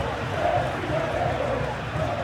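Stadium crowd in the FC 26 football video game, a broad, steady roar of many distant voices forming a continuous ambient wash, moderately quiet and unbroken across the moment.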